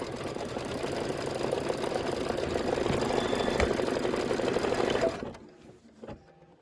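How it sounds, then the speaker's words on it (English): An embroidery sewing machine stitches a pillow block in a rapid, even mechanical whir that runs steadily for about five seconds, then stops, leaving a few quiet clicks and handling noises. "This is 2 minutes of stitching"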